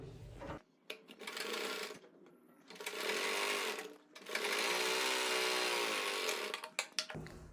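A sewing machine stitches a seam in fabric for a palazzo, running in three loud sustained bursts with short pauses and clicks between them, close and alone.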